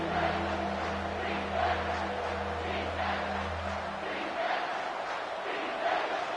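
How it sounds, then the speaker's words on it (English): A stadium crowd in a college football video game roars steadily as it rises up, a dense continuous cheer with a low engine-like drone beneath for the first few seconds. "This crowd rising up, sensing that its defense needs some help."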